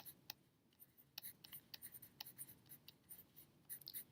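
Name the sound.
writing a topic at the top of a notebook page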